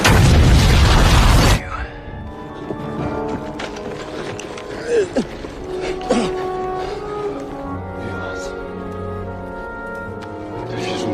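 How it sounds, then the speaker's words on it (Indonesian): A bomb blowing up after being shot in a war film scene, opening with a loud, dense blast that cuts off sharply, then a quieter stretch of scattered clanks, rumbles and ringing tones. "itulah kesempatan John untuk menembak bom itu dan ini yang terjadi"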